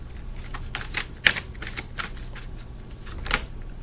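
A Halloween oracle deck is shuffled by hand in a series of crisp, close riffling and flicking bursts, irregular in rhythm, with no voice.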